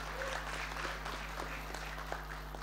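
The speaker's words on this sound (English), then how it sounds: "So we can give her really a round of applause on that." Applause from a press-conference audience at the IIFA Awards 2025, a steady, fairly faint wash of clapping held at an even level for a few seconds against a low hum.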